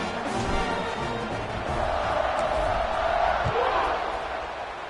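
Football stadium crowd roaring steadily at a kickoff during a college game against an FCS opponent, a dense sustained wall of cheering and shouting that swells slightly mid-way.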